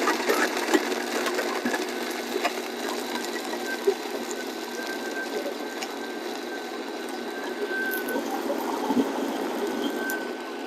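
A Blendtec blender runs steadily on a coffee, chocolate protein, coconut milk and cacao nib smoothie, a continuous even whirring hum with slight rattling, close and moderate, without pauses.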